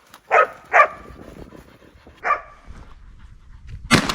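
A hunting dog barks outdoors, two sharp barks close together, then a pause and a third bark, followed by a brief noisy burst at the end.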